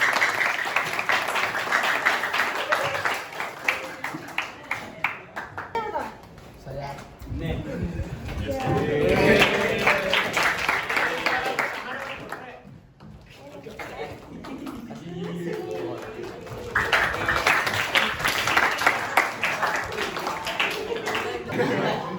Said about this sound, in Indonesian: Mungkin bisa berikan aplaus untuk orang ini.